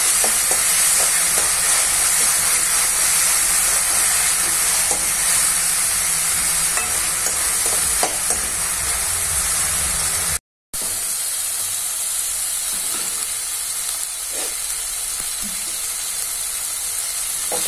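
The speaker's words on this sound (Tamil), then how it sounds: "தக்காளி இப்போ வந்து நம்மளுக்கு வதங்கிடுச்சு." Tomatoes sautéing in a pan, a loud, dense, continuous sizzle and hiss close by with occasional stirring scrapes, briefly broken by a short silent gap.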